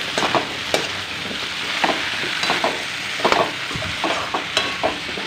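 Potato curry being stirred and mixed in a pan, a spoon scraping and clacking in repeated strokes over a steady sizzle of frying, close and fairly loud, with no voices.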